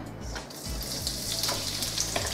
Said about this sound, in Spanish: vamos a echar un chorrito de aceite para poner a sofreír lo que habíamos picado anteriormente. Entonces vamos a poner la cebolla